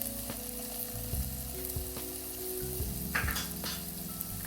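Tomato paste frying in a pan for an easy vegan pasta gives a steady, close sizzle with a few stirring scrapes, set under continuous background music and with no talking.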